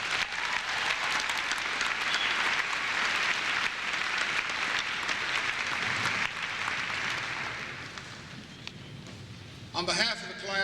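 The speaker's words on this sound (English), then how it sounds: "I'd like to recognize them and give them a round of applause" A high school graduation crowd applauding two honoured staff members, sustained loud clapping from a large audience that gradually fades, with a voice speaking briefly at the close.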